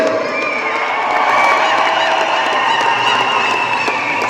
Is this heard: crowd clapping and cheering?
yes